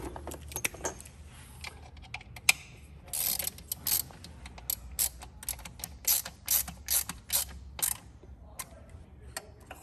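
Ratchet clicking as a screw is tightened on the intake pressure sensor of a Ford Ranger 3.2 diesel, with bursts of short metallic clicks and jangling tool noise, fairly close and irregular, without speech.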